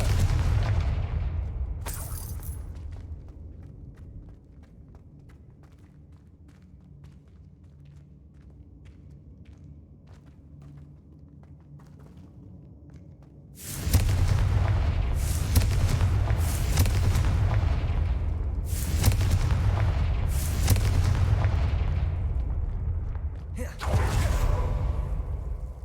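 Confringo blasting spells from the video game Hogwarts Legacy burst in a rapid series of loud explosive booms and whooshes, several close together, after a quieter stretch of low rumbling game ambience.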